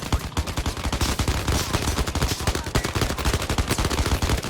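Rapid automatic gunfire from the VR shooter Zero Caliber rattles off in a dense, continuous burst of sharp shots, close and loud with no voices over it.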